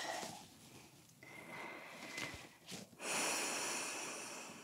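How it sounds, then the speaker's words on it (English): Slow breathing while holding a yoga pose, close soft breaths and a sniff-like inhale, with a longer airy exhale near the end over faint room noise. "Just a couple breaths here."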